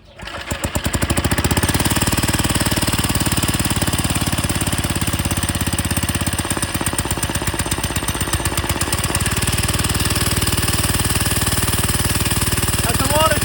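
A cheap $30 motorized bike engine starts and then runs hard with a loud, fast, jackhammer-like rattle that keeps going without a break, heard up close and shaking violently.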